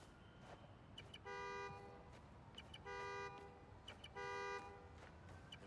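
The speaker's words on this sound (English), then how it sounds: "The more annoying the horn gets, the closer I am." Car horn honking in the video game Spider-Man Miles Morales, sounding as three loud, sustained blasts about a second each, spaced evenly over a steady low ambient background.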